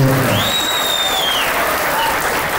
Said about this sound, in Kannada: ಆ್ಯಂಡ್ ಜೋರ್ ಚಪ್ಪಾಳೆ ಬರಬೇಕು ನಮ್ಮ ರಘು.